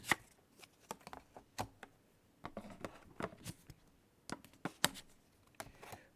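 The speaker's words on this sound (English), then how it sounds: "We reset the tray with 3 new cards" Wingspan board game cards are dealt and set down onto the card tray, a quiet run of crisp taps, slides and flicks of cardboard close to the microphone.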